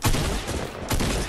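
Dense gunfire crackles through a video game firefight: a sustained, loud burst of overlapping shots that eases briefly in the middle, then surges again, with no talking.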